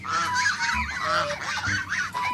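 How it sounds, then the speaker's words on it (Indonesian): A mother goose honks over and over, loud and close, with harsh calls that overlap in quick succession. "Wow, ini induk angsa."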